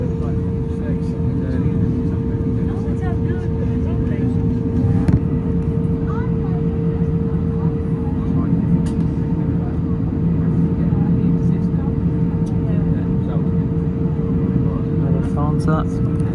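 Steady low rumble of a jet airliner taxiing toward the airport terminal, continuous and loud throughout, with a faint hum and scattered small clicks over it.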